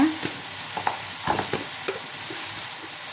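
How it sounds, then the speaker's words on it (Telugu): Tomatoes frying in a pan with turmeric and coriander leaves, a close sizzle broken by a few scraping stirs of a spoon, steady and unaccompanied by voices. "టమాటాలు మంచిగా ఫ్రై అవ్వాలి"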